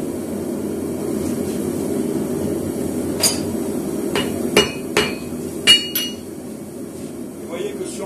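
A blacksmith hammers a hot billet coated with borax while forge welding it, at close to 900 degrees. A handful of sharp, ringing metallic blows land at irregular intervals over a constant roar from the forge.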